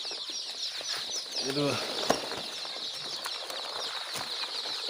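Local chicks at a poultry farm in Assam chirp in a busy continuous chorus of high peeps. A brief flutter and a few louder calls stand out, and a voice speaks briefly over them.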